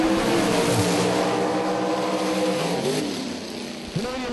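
A Pontiac Firebird drag race car roars past at full throttle, its loud engine note holding steady, then fading and dropping in pitch as it pulls away down the strip.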